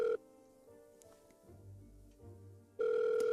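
A telephone ringing in the Agatha Christie Murder on the Orient Express video game, a steady electronic ring tone at the start, a quieter low hum between, then the ring returning loudly at the end.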